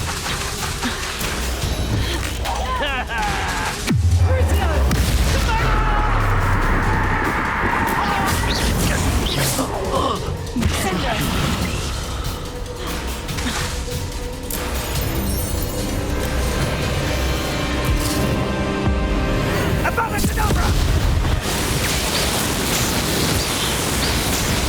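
A chaotic, loud stretch of explosive spellcasting in Hogwarts Legacy, with bursts, crashes and noisy magical effects layered densely throughout, plus some clucking chicken-like sounds and a brief voice.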